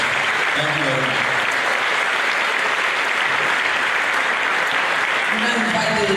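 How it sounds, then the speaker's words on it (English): Loud, sustained applause from a large audience at a university inaugural lecture fills the whole stretch at an even level, with some murmured voices faintly underneath. "invite you to give her a thunderous round of applause one more time"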